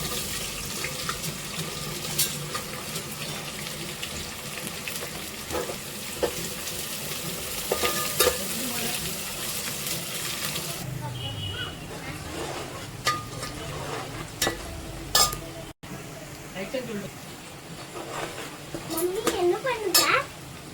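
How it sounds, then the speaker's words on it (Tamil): Onions and bay leaf with cardamom, cloves and cinnamon fry in a pan for biryani, a moderate sizzle with stirring and running-water sounds, while voices talk in the background. "இப்போ இந்த வெங்காயத்தை போட்டுடலாம்"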